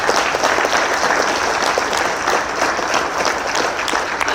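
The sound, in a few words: round of applause for the organizers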